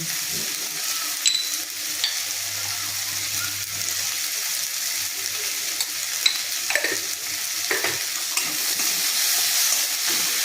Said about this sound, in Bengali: আমার আলু পেঁয়াজ ডাল ভাজা হয়ে গেছে